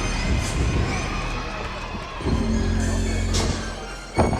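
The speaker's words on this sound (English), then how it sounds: "And the crowd is too, they are loving it." Crowd in a college gymnastics arena cheering and shouting through an Alabama floor routine against Georgia, a sustained roar with swelling bursts of yells and whistles, no clear talking.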